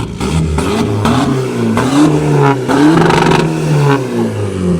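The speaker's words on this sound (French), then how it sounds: "Mets un petit coup de gaz, Mélo." A car engine revs hard in short bursts, rising and falling close by, loud and alone without talk.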